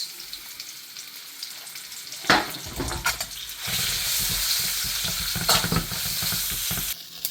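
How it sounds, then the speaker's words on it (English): Okra fries in a pan with a rising, sustained sizzle and crackle, broken by a few sharp spatula scrapes and knocks, loud and close with no talk. "now add the okra and fry for about"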